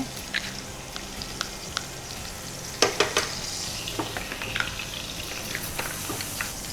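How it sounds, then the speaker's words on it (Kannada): Mustard seeds dropped into hot refined sunflower oil crackle and pop in scattered sharp bursts over a soft steady sizzle, close up in a home kitchen, with a denser flurry of pops midway. "ಎಣ್ಣೆ ಕಾಯ್ತಾ ಉಂಟು, ಸ್ವಲ್ಪ ಸಾಸಿವೆ ಹಾಕ್ತೇನೆ."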